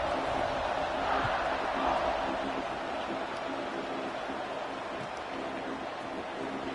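A football stadium crowd buzzing during a college game, Oregon against Alabama, a broad steady roar of many voices held at an even level throughout without distinct cheers or peaks.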